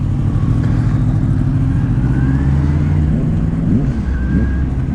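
A motorcycle rides its first lap on a kart track, the engine droning loud and close throughout with shifting pitch as it accelerates and eases off.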